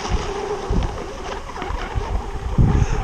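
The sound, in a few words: wind while riding a boat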